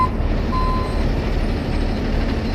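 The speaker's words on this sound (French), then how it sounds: "ce monsieur va simplement reculer et partir" A moving truck backs out of a residential driveway, its low engine rumble steady and close throughout, while a single long reversing beep sounds out over it partway through.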